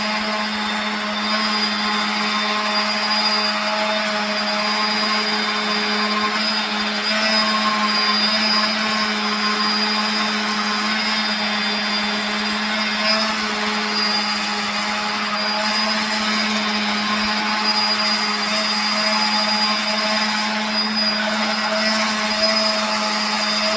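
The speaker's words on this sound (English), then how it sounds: "Nothing fancy, just palm sander, 40 grit." Palm sander fitted with 40 grit sandpaper running steadily on wood while carving a walking stick, a continuous close, loud whirring drone with a constant hum and no breaks, without talk.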